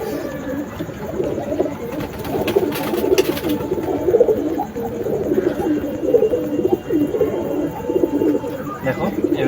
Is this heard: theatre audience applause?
no